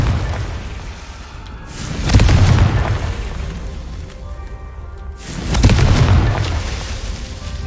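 Two heavy booming blasts from the Confringo spell in Hogwarts Legacy, each a loud deep burst with a rumbling tail, spaced a few seconds apart.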